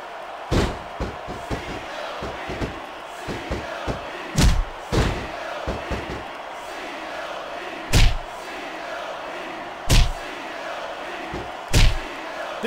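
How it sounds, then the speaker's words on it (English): Crowd noise rises in a packed wrestling arena during a WWE triple-threat match, with loud rhythmic body slams and thuds on the ring mat punctuating a steady roar of the audience. "This capacity crowd is certainly getting its money's worth here tonight."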